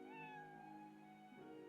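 A cat meows in the fantasy RPG Another Eden, one drawn-out, rising-then-falling cry near and clear, followed by a shorter trailing call, over a soft musical backdrop.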